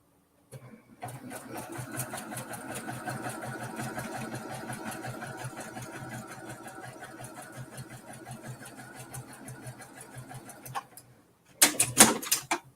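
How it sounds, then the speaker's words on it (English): A sewing machine runs a long continuous stretch of rapid needle clatter while stitching a curved seam on an Evening Star quilt block, then stops; a brief burst of handling noise follows near the end. "I just stitched a curve that went around the world, y'all."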